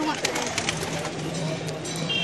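Low, rolling coos come from a loft of flying pigeons in Bijnor district, repeating softly and nearby, with a voice and faint ambient noise alongside.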